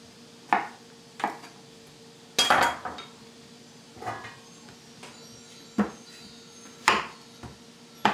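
Beef cut into pieces and threaded onto skewers for kebabs, with scattered sharp knocks and clinks against a board and utensils, several isolated hits spaced a second or so apart over a quiet kitchen background.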